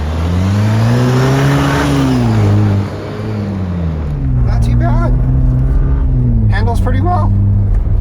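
A Jeep fitted with a new suspension system drives on a test drive, its engine hum rising and falling steadily throughout, with someone talking over it in a few places.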